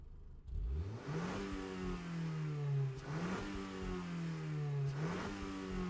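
A 1.4-litre car engine revving in Gran Turismo 7, three rising-and-falling revs in a row with gear-like dips between them, loud and close, buzzy mid-pitched tone, no voices.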